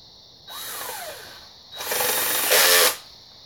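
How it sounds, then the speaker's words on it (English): A power drill with a half-inch bit whirs in two bursts into a hole, the second louder and grinding harder as it bites, with a short pause between them. "1/2-inch drill bit into the hole"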